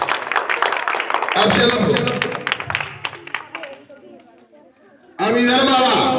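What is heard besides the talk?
students clapping hands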